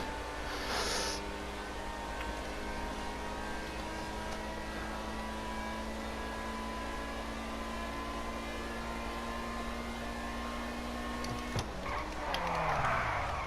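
A Pegassi car engine in GTA Online drones steadily at one pitch throughout, straining as if unable to shift up, with a brief rise and a whoosh of wind or exhaust near the end.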